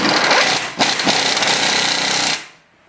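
A socket tool drives an 18mm nut tight on the front strut assembly of a 2005 Ford Taurus, a loud, close, continuous rattling burst lasting a couple of seconds before cutting off abruptly.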